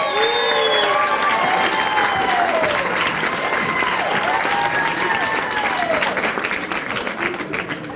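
A studio audience at a TV talk show breaks into sustained applause with cheering, a dense crowd wash holding steady throughout and easing off near the end.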